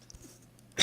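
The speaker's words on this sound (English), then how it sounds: "I'm going to cough." One short, sharp cough bursts out at the very end after near silence, close and fairly loud.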